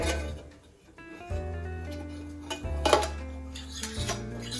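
A ceramic plate is set down inside a crock of sauerkraut cabbage to weigh it down in the brine, giving soft clinks and scrapes of dishware under a steady low hum.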